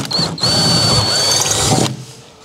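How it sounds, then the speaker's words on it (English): A power drill whirs steadily for about two seconds with a high whine, then winds down and stops, drilling a hole through a 2022 Subaru WRX trunk lid. "make sure you drill as straight as possible down."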